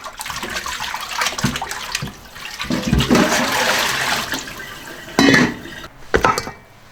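Tap water gushes and splashes as turkey legs are rinsed in a kitchen sink. The flow rises and falls, with sharper splashing bursts toward the end.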